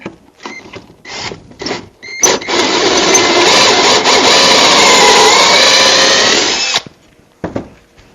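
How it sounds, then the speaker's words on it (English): A power drill whirs loudly for about four seconds, after a few short starts, bogging slightly as it bores through a scrap piece of 2x4 wood, then stops. "I'm going to grab a freaking scrap piece of 2x4 and I'm going to do a test drill"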